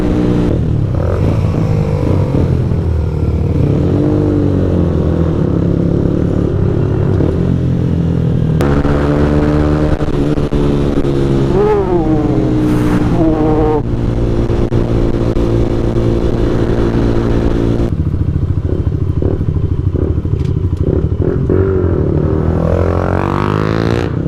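Honda CBR 125 motorcycle engine running steadily and loud throughout, its tone rising and falling as it revs and passes, with a brief gear-change dip near the middle and wind rumble underneath.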